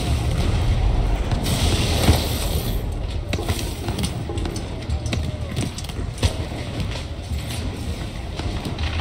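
Deep booming blasts of cannon fire in the video game Shadow Tactics: Blades of the Shogun rumble repeatedly through a dense, noisy battle soundscape, with sharp impacts scattered across the scene.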